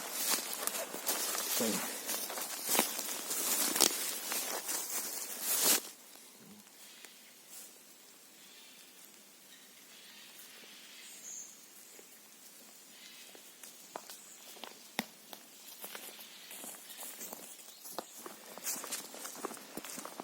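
Footsteps crunching through a Rivne-region forest during autumn mushroom hunting, fairly close and irregular, louder at first then fading to faint scattered steps in a quiet woodland.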